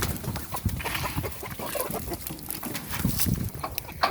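Chickens clucking and scratching at feed spread on the ground from a bowl, soy-free meatbird feed; a busy flock with soft overlapping clucks and pecking, close and moderately loud throughout.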